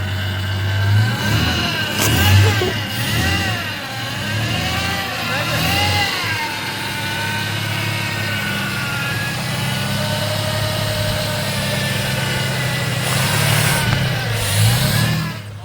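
A car engine runs with no fuel pump fitted, revving up and down in a steady drone while someone talks excitedly over it throughout.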